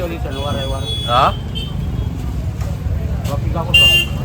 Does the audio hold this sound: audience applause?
no